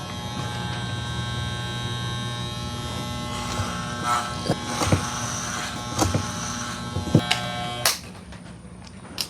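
Electric hair clippers buzz steadily and close by while someone cuts their own hair, with the motor's tone shifting and thumping as the blades pass through, before cutting out near the end.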